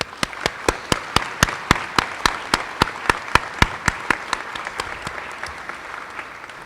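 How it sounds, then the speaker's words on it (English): Commencement audience applauding parents and spouses: a sustained bed of crowd applause with one nearby pair of hands clapping loudly in a steady, even beat, about twenty sharp claps that soften near the end. "Will you please join me in giving a round of applause to all the parents, spouses, significant others"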